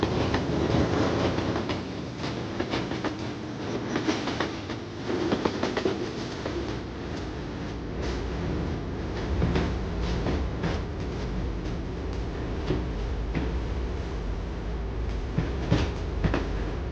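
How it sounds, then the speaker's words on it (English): The Canadian passenger train rolls on Canadian National tracks toward the Yellowhead Pass, with a steady rumble and repeated wheel clicks heard from inside a carriage, continuous and moderately loud. "From Jasper, the train now heads west toward the Yellowhead Pass."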